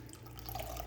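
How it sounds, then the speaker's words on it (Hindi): Roughly a cup of water is poured into kadhi batter, a brief, quiet trickle of liquid splashing into the bowl with no talk over it. "मैं तकरीबन 1 कप इसमें पानी ऐड कर रही हूँ"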